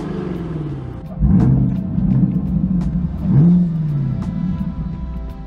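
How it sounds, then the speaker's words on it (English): A car engine revs twice with a deep, throaty rumble, each rise swelling then falling back to a low idle. "can provide a noticeable increase in power and a more aggressive exhaust"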